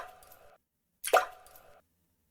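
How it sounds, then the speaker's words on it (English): Water drops from the video game Sound of Drop: two soft plops a moment apart, the second sharper and louder, each ringing briefly before fading into silence. "The sound of falling drops."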